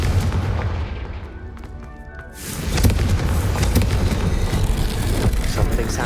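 A Confringo fire spell explodes in the video game Hogwarts Legacy, a loud booming blast with crackling debris that swells midway and stays dense and forceful to the end, over rumbling game effects.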